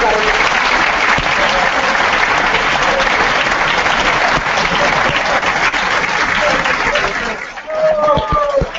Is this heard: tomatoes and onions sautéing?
no